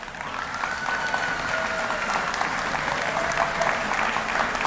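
Diners at a high school sports hall of fame induction dinner applaud a jazz band, a full room clapping steadily and loudly, with a few voices calling out over it.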